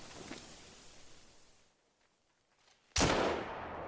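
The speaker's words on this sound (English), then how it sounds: "I'm shooting all over the place" A 9.3 rifle shot fired in a hunting video game, one sharp loud crack near the end after a quieter stretch of faint rustling noise.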